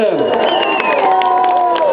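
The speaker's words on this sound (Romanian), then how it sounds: "Aplauze dumneavoastră!" A crowd at a campaign concert for a parliamentary candidate in Ukraine breaks into cheering and shouting with scattered applause mixed in, loud and close, with voices calling out throughout.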